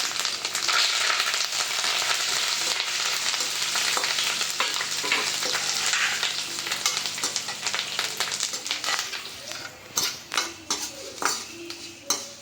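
Dense, loud crackling sizzle of curry leaves dropped into hot oil in a pan after the gas is turned off, fading over time into separate utensil taps and clinks near the end.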